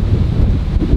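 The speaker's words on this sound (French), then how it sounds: "là vous entendez peut-être pas le vent mais là peut-être que vous l'entendez déjà un peu plus" Wind blowing steadily across a desert island, a constant low roaring rush with gusty buffeting against the microphone, no voices present.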